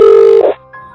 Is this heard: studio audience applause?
no